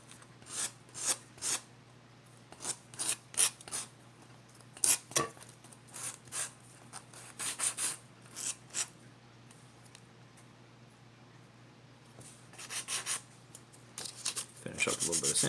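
Sandpaper rubs the wooden block of a Native American style flute in short, close, irregular scraping strokes with pauses between, quickening toward the end.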